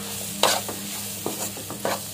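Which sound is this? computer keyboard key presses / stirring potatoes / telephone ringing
stirring potatoes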